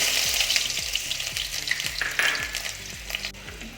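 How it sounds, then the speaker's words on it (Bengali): Onion, garlic and ginger fry in hot oil in a pan for a cauliflower stir fry, a loud, steady close-up sizzle with stirring scrapes and crackles, under faint background music and no voices. "প্যানে তেল গরম হয়ে গেছে, তাতে"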